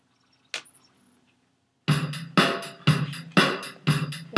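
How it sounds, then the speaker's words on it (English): Music from a CD player fed straight into a small speaker through alligator clips, unaltered; after a brief click and near silence, a rhythmic beat with regular thumping pulses plays moderately loud, with no voices. "this is the sound of the unaffected signal"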